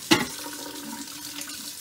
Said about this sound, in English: I need to add a little bit of hot water to my pressure canner